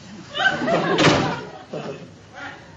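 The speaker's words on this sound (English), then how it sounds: "Rhoda, close the door." A door is pulled shut in a sitcom office scene, one solid slam landing in the middle of the clip while voices talk before and after it.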